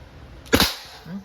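A single sharp, loud shot cracks from an Umarex T4E Walther PPQ M2 .43 caliber rubber ball pistol, a brief close report followed by quiet.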